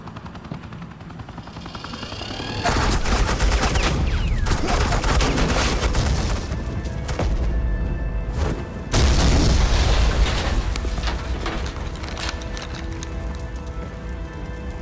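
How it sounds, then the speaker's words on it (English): Sustained suppressing gunfire in the video game Batman: The Enemy Within, a loud, dense roar of rapid shots and booms that starts abruptly, breaks off briefly, then resumes and carries on. "This is Agent Quinn, suppressing fire."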